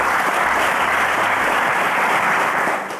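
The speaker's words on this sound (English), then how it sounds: "Ladies and gentlemen, a round of applause." A quiz show studio audience applauds loudly and continuously, a dense wash of clapping that fades slightly at the end.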